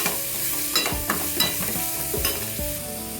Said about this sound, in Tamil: சேர்த்துட்டு இது எல்லாத்தையுமே நல்லா வதக்கிடுவோம்.